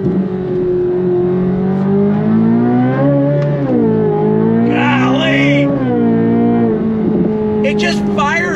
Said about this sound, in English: It just fires off the shift so quickly, and the engine revs so fast.